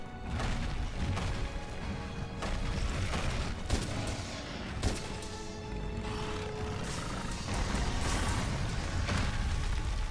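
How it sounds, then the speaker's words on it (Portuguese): Heavy bowgun in Monster Hunter World firing slicing ammo against Uragaan, dense loud game-battle noise with repeated sharp bursts and booms layered over continuous action sound, no talking. "Munição cortante. Só dá para usar uma."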